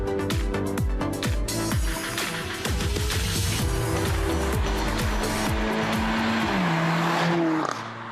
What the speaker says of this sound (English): It's what turns the GLA into an AMG with its characteristic sound.